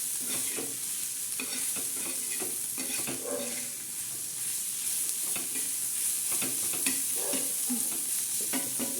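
Dried bombil fish frying crisp in oil, with a steady close sizzle and crackle throughout and occasional stirring scrapes on top; no one talks.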